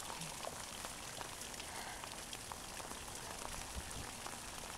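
Steady mixed rain and snow patters densely on surfaces, a soft continuous hiss dotted with scattered drops, with no talking.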